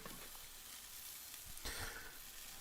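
Sausages frying on a hot grill give a faint, steady sizzle with soft crackles and a brief louder flare partway through, heard alone without speech.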